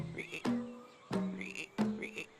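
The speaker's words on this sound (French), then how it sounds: "la grenouille qui fait trop de bruit" A noisy toy frog croaks in a few loud, buzzy bursts, each with a rising warble, at close range with some background voices.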